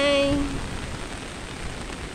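Heavy rain pours steadily in Sunvalley, Parañaque, a dense, even hiss of water falling on surfaces throughout, with a brief tonal sound at the very start.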